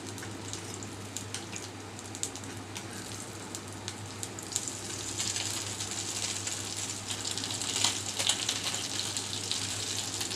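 Foli fish (featherback) frying head-first in hot oil in a pan, a steady broadband sizzle with crackling pops that grows slightly louder toward the end, alone under a low constant hum.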